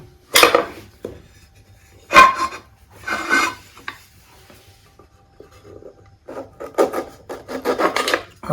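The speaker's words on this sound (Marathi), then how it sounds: "आता लिंब पण चिरून घेऊ।" A knife cutting lemons on a board at home, with sharp irregular cuts and slices, a pause in the middle, then a quicker run of chopping strokes toward the end.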